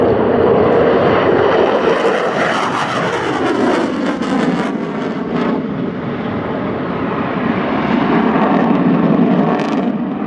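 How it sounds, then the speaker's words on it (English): An F-15 fighter jet roars overhead at an airshow with its afterburners lit, a loud, continuous, broadband jet rumble that swells and shifts in pitch as it pulls up and around. "The afterburners are lit when he pulls up to go around there."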